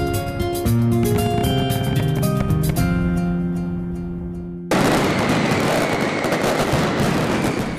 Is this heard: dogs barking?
no